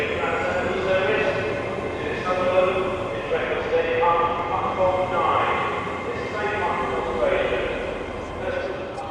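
A passenger train on the Castleford to York line pulls away from the station with a low, rhythmic rumble and clatter that runs steadily beneath nearby voices talking.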